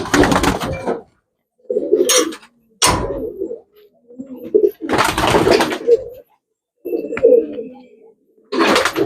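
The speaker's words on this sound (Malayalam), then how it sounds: "ഞാൻ ആ പ്രാവുകളെ കാണിക്കാം." Domestic pigeons coo in close, loud bursts: throaty, rolling calls repeated in separate phrases with short silences between them, plus a few sharper sounds. There is no talking.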